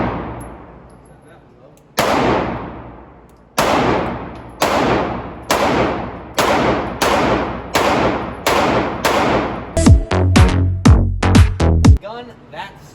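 Sig Sauer P365 handgun fired at a range at 7 yards: a string of about ten sharp, loud gunshots with echoing tails, spaced roughly a second apart and then quickening into a rapid burst near the end.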